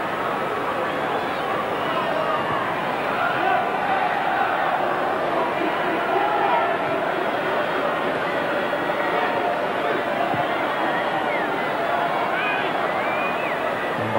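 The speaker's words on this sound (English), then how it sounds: "there are one or two in the crowd making noises" Football crowd at a stadium during an England v Cameroon friendly international, a steady distant hubbub of many voices with occasional calls, continuous and even throughout.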